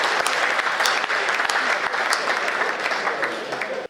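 Audience at a Hindi comedy poetry gathering (hasya kavi sammelan) breaks into dense, sustained applause, loud and steady for several seconds before stopping abruptly.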